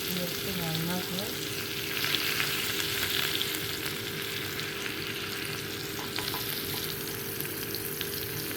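Onion frying in a pan for a fish curry, a steady close sizzle and hiss with occasional stirring, fairly quiet and continuous, with no talk.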